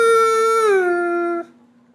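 A single voice imitates a passing siren, holding a high wavering tone that drops abruptly in pitch partway through, then cuts off.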